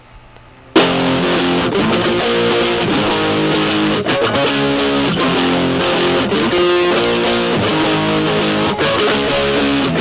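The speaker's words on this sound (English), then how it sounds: "And then the distortion kicks in." Heavily distorted electric guitar chugs through a song's chord progression, starting abruptly after a brief quiet moment and then continuing loud, dense and steady with rhythmic muted accents throughout.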